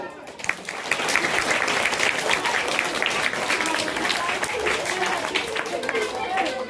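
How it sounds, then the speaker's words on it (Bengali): An audience at a theatre festival gives loud applause for a drama troupe, a dense, steady wash of many hands clapping that holds for several seconds with faint crowd murmur beneath. "জয়ন্ত এবং আলো নাট্য সংস্থার জন্য একটা জোরে হাততালি।"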